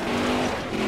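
Stock car engine at racing speed in the NASCAR Heat 5 video game: a loud, steady, sustained drone with a brief wavering tone as the car works into a turn.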